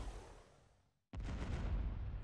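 An ion cannon fires in a Star Wars strategy game mod: a low rumble fades to a brief silence, then a sudden loud, booming blast follows with a heavy, sustained rumble.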